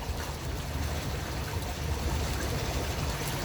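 A tourist boat cruising on the water near the Dubai Opera House on New Year's, with a steady low engine hum and continuous splashing and rushing water along the hull, close and even throughout.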